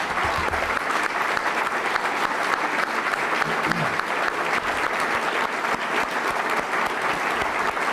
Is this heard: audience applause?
yes